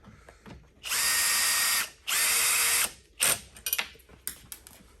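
A power drill drives a screw during desk assembly, giving two sustained loud whirring bursts of about a second each, followed by short clicks and brief mechanical rattles.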